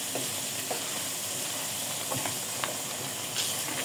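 Country chicken curry sizzles and crackles in a hot pan as the meat is fried down, a steady close hiss with small pops and bubbling bursts throughout, no voices.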